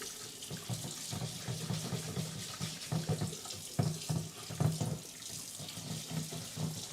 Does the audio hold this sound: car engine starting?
no